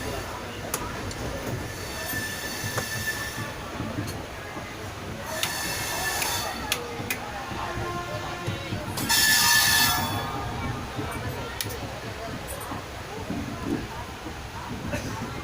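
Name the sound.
train departing a station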